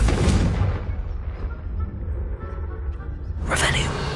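A Confringo blasting spell goes off in the Hogwarts Legacy video game, a loud burst at the start that rumbles on through sustained low booming, with a second bright blast near the end.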